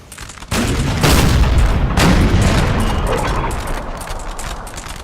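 Musket volleys in a Napoleon Total War online battle, a sudden loud crackling burst of massed gunfire that rolls on continuously and slowly fades, with no talk over it.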